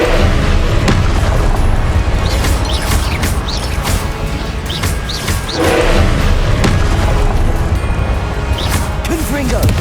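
Confringo explosion spells in Hogwarts Legacy during the Pensieve Guardian boss fight, loud booming blasts over dense, continuous battle noise.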